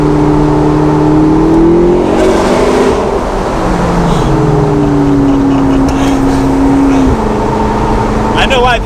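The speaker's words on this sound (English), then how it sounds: "I think we might have to do a little bit of an acceleration." A 2015 McLaren 650S Spider with the top down accelerates in third gear on a highway, its loud engine droning close by with pitch that rises and shifts over rushing wind noise.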